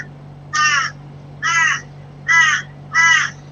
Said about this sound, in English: Whose crows are those?